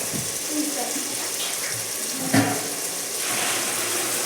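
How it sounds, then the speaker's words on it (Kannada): Water splashes and pours steadily into a cooking pot close by, with a brief clank partway through. "ಈಗ ಇದಕ್ಕೆ ನೀರು ಹಾಕ್ತಾರೆ ನೋಡಿ"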